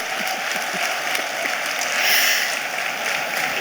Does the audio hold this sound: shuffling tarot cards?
no